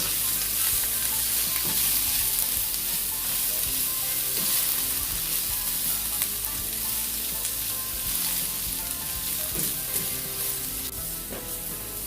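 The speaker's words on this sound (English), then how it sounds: "I'm going to start off by adding the carrot, since the carrot takes longer to cook. Saute this for a minute." Carrots sauté in a hot pan with a loud, continuous sizzle and occasional stirring scrapes, close and steady with no talking.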